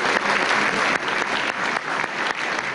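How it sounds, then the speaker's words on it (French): Audience applause greets the introduction of rally world champion Ari Vatanen: dense, sustained clapping fills the room at steady loudness for the whole stretch, with no talk over it. "je vous demande de l'applaudir"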